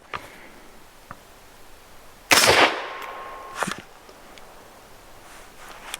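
Single suppressed rifle shot through an RR Weapons Ventus 556 suppressor, a sharp loud crack with a short decaying tail, followed by a second softer report about a second later amid faint clicks and handling noise outdoors.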